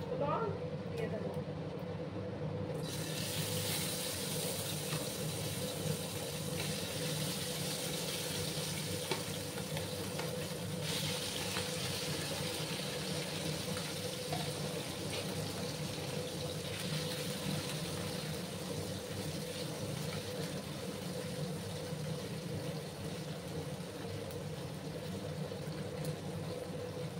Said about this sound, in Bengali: তেলটা গরম হয়ে গেছে, এবার আমি মাছগুলো দিয়ে দেবো।